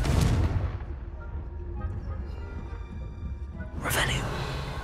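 Confringo explosion spells cast in the Hogwarts Legacy video game: a sharp, booming blast opens, a second explosive burst arrives near the end, with rumbling game sounds and some voice between them.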